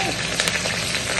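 Green chillies frying in oil in a pan for burnt garlic prawns fried rice, giving a steady close sizzle with faint crackle, no talking.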